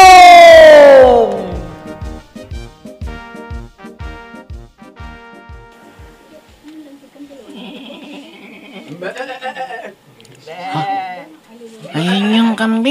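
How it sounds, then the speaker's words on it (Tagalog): A goat bleats loudly at the start with a wavering, harmonic cry and then fades. Rhythmic low thumps follow, and animated voices talk over the second half. "Ayan yung kambing."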